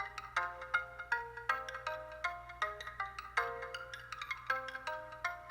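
Logic Pro X's Tiny Plucks synth instrument plays a bright melody of short plucked notes, each decaying quickly in a bouncy, steady rhythm, close and clear with no voices.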